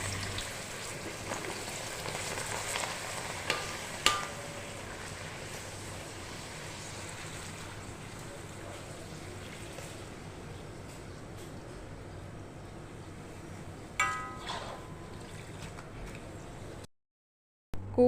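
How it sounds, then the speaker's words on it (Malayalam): Papadam fries in a wide pan of hot oil in a home kitchen in Oman, making a steady, dense sizzle that crackles continuously, with a few sharper spatters near the end before it cuts out. "നമ്മൾ പപ്പടം പൊരിക്കുകയാണ് കേട്ടോ അതിൻ്റെ ഇടയിൽ കൂടി."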